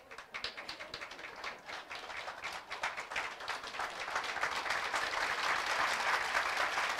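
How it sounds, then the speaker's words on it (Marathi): An audience claps steadily through a lecture hall, starting with scattered hand claps and building into dense, continuous applause that grows louder over several seconds. "न कंटाळता जोरात टाळी वाजवा"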